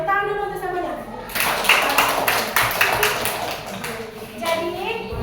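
A group of people in a classroom session applauds together for about three seconds of dense clapping, with a voice speaking just before and after it.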